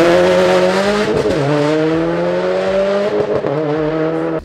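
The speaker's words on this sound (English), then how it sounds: "we have the internet's favorite exhaust for the WRX STi and the most hated exhaust system also, the TOMEI" A loud, raspy Tomei exhaust on a 2015–2021 Subaru WRX STI with an equal-length header drones close by, its pitch dipping and rising as the engine revs steadily, with no voices.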